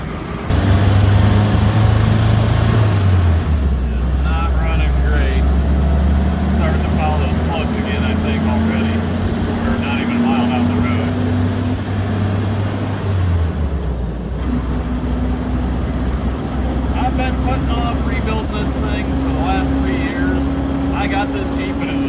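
A worn 1954 Willys Jeep CJ3B with 5.38 gears labors uphill in third gear around 40 mph, its engine down on power, droning loud and steady with shifting pitch while someone talks over it.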